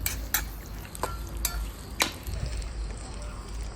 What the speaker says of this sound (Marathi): त्याला 5 मिनटं फ्राय केलेलं आहे।